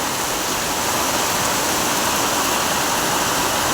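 Heavy monsoon rain falling in a steady, unbroken hiss, with no breaks and no voices, close and constant throughout.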